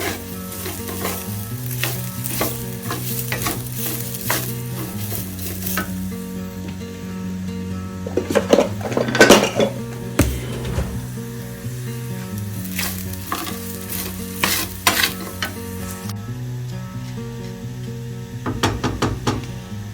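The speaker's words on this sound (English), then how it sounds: "you brown the rice" Rice browning in a clay cazuela for Mexican rice, with a steady close sizzle of frying grains and scraping stirs throughout, plus a louder burst of spattering around the middle.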